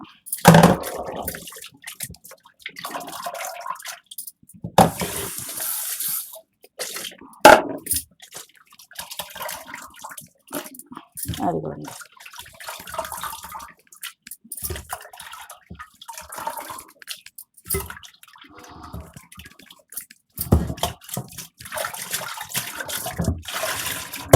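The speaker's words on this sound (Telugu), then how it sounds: "ఇప్పుడు మనం వాటర్లో బాగా శుభ్రం అండి ఇంకో రెండు మూడు సార్లు" Small prawns being rinsed by hand in water: irregular splashing, swishing and trickling, with pouring and sloshing bursts, moderately close and continuing steadily with short pauses, no talking.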